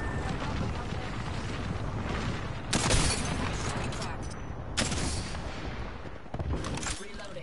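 Gunfire in a first-person shooter game, dense and continuous with sharper bursts standing out near the middle, all mixed under a steady wash of game noise.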